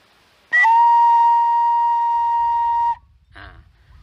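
A single high do note is blown on a fingered wind instrument, a clear whistle-like tone held steadily for about two and a half seconds, followed by a brief, fainter breathy note.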